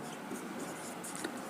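A pen scratches out numbers on an exam answer sheet, a soft, steady scribbling close to the page with faint, quiet strokes throughout.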